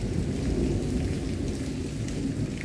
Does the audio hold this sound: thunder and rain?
yes